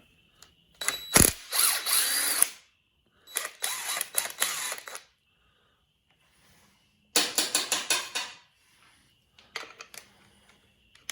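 A ratchet wrench loosens 7/16 nuts on a Mercruiser Alpha 1 stern drive in close, loud bursts of rapid clicking separated by quiet pauses, with a fainter short burst near the end.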